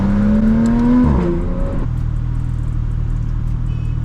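A straight-piped Porsche 992 GT3 RS engine revs hard and loud up to a high wail, then drops back to a steady, throaty idle burble heard up close with no talk.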